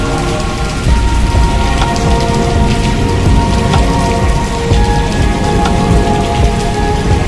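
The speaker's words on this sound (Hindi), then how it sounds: "बारिश के दौरान एक खुशगवार सुबह का आगाज़ हो रहा है।" Steady rain falls on a muggy morning in Toba Tek Singh, Pakistan, near the General Post Office and a garden, a dense, even hiss of drops on surfaces that stays constant and close with no voices.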